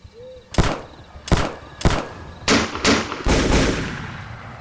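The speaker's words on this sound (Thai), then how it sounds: "เสียงปืนหลายชนิดดังกึกก้องไปทั่วบริเวณ" Several distinct gunshots from different kinds of guns ring out one after another, loud and sharp with echoing tails, the last blasts overlapping into a longer rolling burst, like a small war breaking out.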